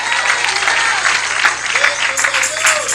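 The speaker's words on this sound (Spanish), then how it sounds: "Dele ese aplauso al Señor." A congregation at a church spiritual warfare seminar applauds continuously, with a thick, loud clapping wash and crowd voices mixed in.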